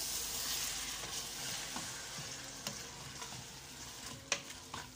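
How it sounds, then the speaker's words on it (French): Sweet potato leaves (matembele) frying in a pan give a steady hiss and sizzle, with a few scraping stirs and soft clicks from a utensil, close by, no talking. "Là, mon matembele est au feu. Je suis en train de remuer, tourner le matembele."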